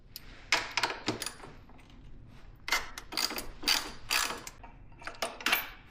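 Wrench working the bolts and 12mm nut on a Kawasaki ZX-4RR's Graves carbon cat-back exhaust, giving a run of close metallic ratcheting clicks in uneven bursts with short pauses between.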